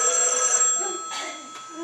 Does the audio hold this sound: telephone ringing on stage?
yes